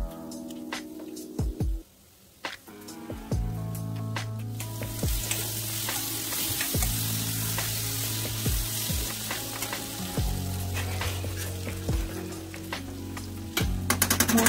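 Sliced potato pieces sizzle and fry in an oiled pan, a steady crackling hiss with occasional stirring clatters and a couple of sharp utensil knocks, close and continuous throughout.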